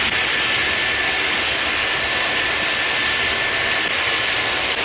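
A Dyson Airwrap hair styler blows air in a loud, constant rushing roar, close to the microphone, that holds steady throughout with no speech.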